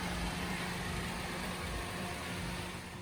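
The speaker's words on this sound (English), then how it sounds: "Let that engine run for a good 10 minutes, 15 minutes" A car engine idles steadily after a throttle body cleaning, a continuous low rumble heard up close with no talking.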